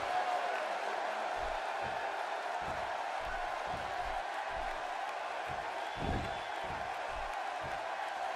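Steady crowd roar from a wrestling arena in the WWE 2K16 video game, continuous and loud with a swelling cheer partway through, under faint commentary.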